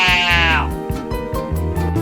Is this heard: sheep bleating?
yes